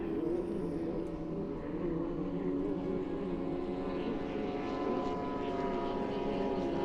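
A racing powerboat's engine hums steadily out on Lake Karapiro during a race day, a continuous droning roar at a moderate distance with no talk over it.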